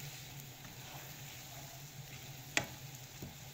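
Garam masala, turmeric and coriander powder frying with prawns in a pan for biryani, a quiet steady sizzle with one sharp clink of a utensil partway through.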